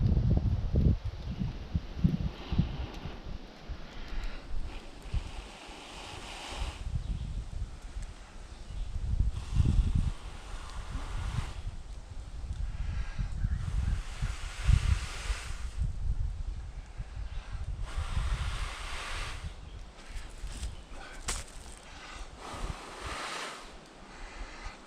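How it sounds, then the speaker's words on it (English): Gusty wind blows steadily outdoors while a hand drill fire is worked with horseweed and cedar, rising and falling in loud buffeting waves against the microphone with no talk. "Wind's gonna help me out a little bit"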